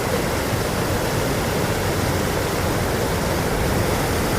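A loud, constant roar of rushing water after heavy rain, dense and unbroken, like a strong torrent pouring close by with no other sounds standing out.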